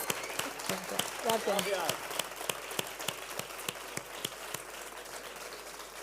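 Audience applause at a tribute event for a magician in Badia del Vallès: a steady, moderately loud patter of many hands clapping, with a voice speaking over the first part.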